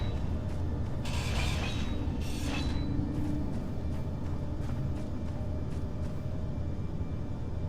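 Welding tool in Space Engineers, the space-building video game, working on a mech: a steady mechanical hum and crackle, with brighter hissing bursts flaring for a couple of seconds near the start.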